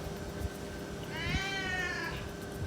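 A pet cat gives a single drawn-out meow, close and fairly clear, over a low indoor background hum.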